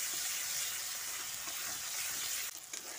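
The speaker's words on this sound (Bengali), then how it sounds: "এবার টমেটোটা মশলার সঙ্গে ভালো করে কষিয়ে নিচ্ছি।" Chopped tomato with spices and a pinch of salt sautéing in a hot pan, a steady close sizzle with stirring that shifts and thins for the last half second.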